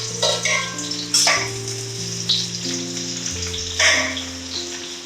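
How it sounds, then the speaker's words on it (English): Onions frying in a pan for chicken sukka give a steady sizzle with crackling bursts, close and moderately loud, with a few clinks and low hum in the background, no talking. "Now we have to patiently brown these onions."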